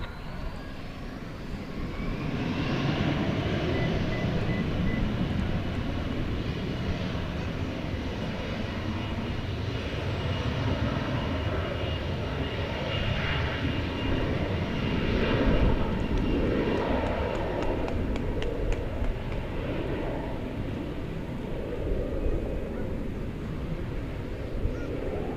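A four-engined airliner takes off from runway 18 Left at DFW Airport, its engines building into a loud, sustained broadband roar that holds steady for over twenty seconds, with no talking.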